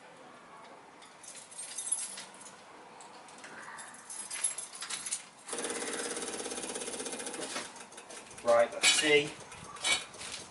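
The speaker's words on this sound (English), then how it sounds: "Right, that's pumping fuel." A small, cheap electric fuel pump on a car being repaired for a blown head gasket whirs in a steady buzzing run for a couple of seconds, flanked by scattered clanks and a brief spoken word.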